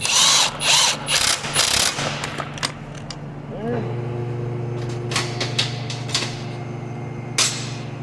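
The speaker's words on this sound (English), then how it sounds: "I'm going to tighten down these 2 bolts." A socket ratchet clicks rapidly and loudly up close while bolts are tightened down on a Honda Odyssey engine during timing belt work. The clicking comes in quick bursts, then gives way to a steady low hum with a few sharp knocks.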